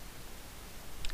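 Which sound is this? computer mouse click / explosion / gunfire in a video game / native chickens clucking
computer mouse click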